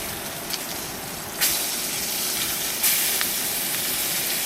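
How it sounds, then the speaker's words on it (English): Steak sizzles in nearly bubbling butter in a pan at a rainy campsite, a loud, broad, steady hiss with two sudden surges where the fizz flares up sharply, alone without talk. "waited till the butter was about almost bubbling"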